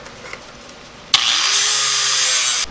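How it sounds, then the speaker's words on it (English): An angle grinder whines up and grinds steel welds on a military trailer, a loud, close, steady scraping screech lasting under two seconds before stopping abruptly, preceded by a brief clank. "What would amateur welding be without grinding?"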